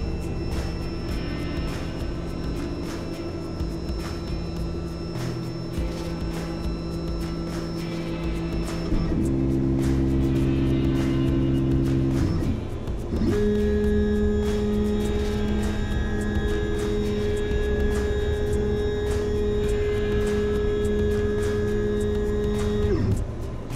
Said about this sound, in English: we've connected to the machine and we're just running the initialization right now